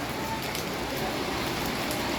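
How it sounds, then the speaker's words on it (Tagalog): Heavy rain pours down during a flood, a dense, unbroken close hiss of drops hitting surfaces that holds steady throughout. "Grabe, lakas ng ulan."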